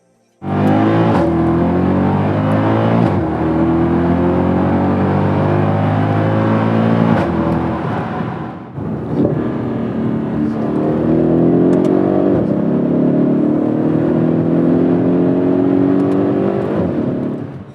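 A Mercedes-AMG M156 V8 engine revs hard and loud, its pitch climbing steadily, dropping back briefly, then rising again into a high, sustained roar.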